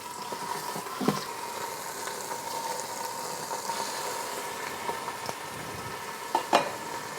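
Beef bones sear in avocado oil in a pan, giving a low, even sizzle with a faint hum beneath and a couple of sharp clinks from handling, no one speaking.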